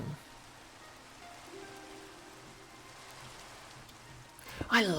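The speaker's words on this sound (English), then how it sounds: "Oh, it's raining." Steady rain falls in Minecraft, a soft, even patter that lasts throughout, with a louder burst of sound at the very end.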